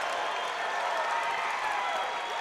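Crowd in a gym at a college basketball game between the Eagles and Bob Jones University, cheering and clapping during a timeout, a steady dense roar of applause and cheers throughout at full loudness.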